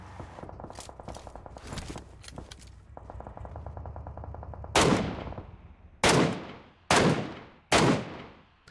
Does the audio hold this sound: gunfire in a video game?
yes